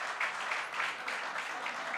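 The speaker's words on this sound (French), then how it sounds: "Applaudissez encore une fois, s'il vous plaît." Audience applause at a singing contest, a steady faint patter of clapping swelling and fading slightly over a couple of seconds.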